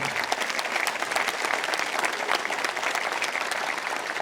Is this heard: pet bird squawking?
no